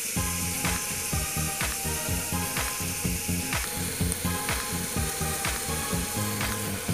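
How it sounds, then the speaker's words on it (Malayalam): Ingredients for chicken mulakittath sautéing in a pan, a constant sizzle over a steady rhythmic beat of repeating clicks and low thuds. "ഇത് നന്നായി വഴറ്റി വരണം"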